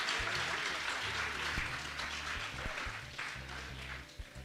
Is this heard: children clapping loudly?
yes